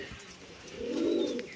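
A male pigeon gives a single low, soft coo that swells toward the end, close and fairly quiet against a faint outdoor background.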